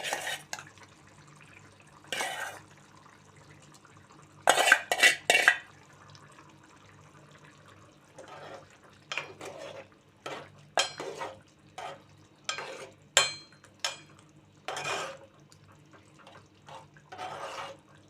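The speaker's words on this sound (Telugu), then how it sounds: "ఆయిల్లో వేయించుకున్న ఎగ్స్ దీనిలో అయితే వేస్తున్నాను" Fried eggs being stirred into a curry in a pan, with scattered spoon scrapes and clinks against the metal, loud bursts near the start and at irregular intervals amid quiet gaps.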